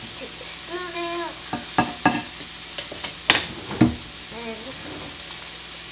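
A pan of steak sizzles on the heat with a steady hiss, broken by a few sharp utensil knocks and clatters, while a voice speaks briefly nearby.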